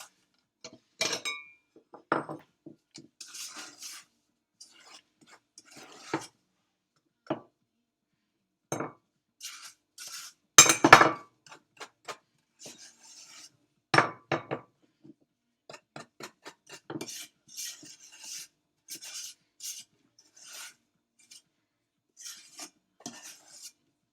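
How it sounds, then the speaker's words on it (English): Intermittent light scrapes and clinks of a utensil against a bowl as gloopy homemade air dry clay mixture is scraped in, scattered irregular taps with a few louder knocks, close and without talk. "Okay, so I've put the mixture into this bowl now"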